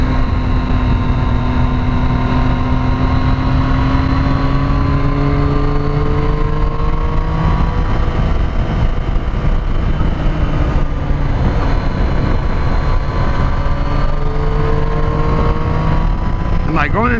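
Motorcycle engine while riding and shifting gears, loud and continuous from an onboard position, pitch climbing through the revs then dropping at each shift, a pattern that repeats several times.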